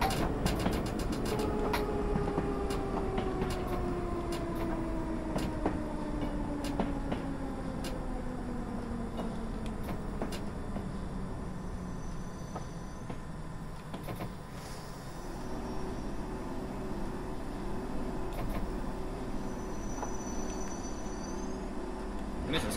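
In the game Train Simulator, a London Underground train on the Hammersmith to Edgware Road line runs under a steady rumble while its electric motor whine slowly falls in pitch as it slows, quiet and continuous.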